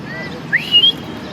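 A person gives a brief, rising whistle, a quick upward glide followed by two short held notes, close and clear against faint background hum.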